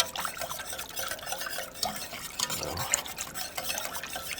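Alfredo sauce with mascarpone being stirred in a pot over medium to medium-high heat, soft wet scraping and sloshing strokes with light liquid clinks, faint and irregular.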